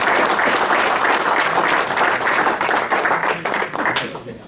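An audience at a Tri Valley conservatory event breaks into loud, sustained applause. Dense clapping holds steady, then begins to thin and fade near the end.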